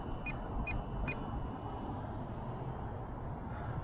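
Three quick, evenly spaced electronic beeps from the aerobatics button of an Eachine Mini Mustang P51D park flyer RC plane ring out over a steady rushing wind and motor noise, then the noise continues alone.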